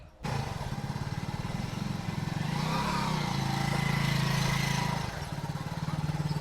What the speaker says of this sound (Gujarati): તો ડીકે મોટરસાયકલ બાયણે કાઢી લીધું છે અને હવે અમે નીકળી છે